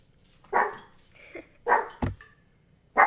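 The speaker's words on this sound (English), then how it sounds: "My dog Piper is barking." A dog barks several times in short, sharp bursts with pauses between, close by and fairly loud against a quiet background.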